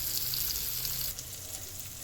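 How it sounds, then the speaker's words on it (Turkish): Anchovies fry in a pan with a dense, steady sizzle and crackle, close and continuous, easing slightly partway through. "Şöyle hamsi koydum tavaya başladım oyna başladı oynamaya"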